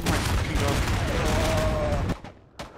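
Rapid gunfire and explosions in the video game Isonzo crackle densely for about two seconds, then cut off, leaving a couple of sharp distant shots.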